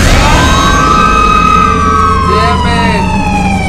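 A siren from the siren cop in a Roblox obby game wails loud and continuous, a rising-and-falling tone over steady background noise.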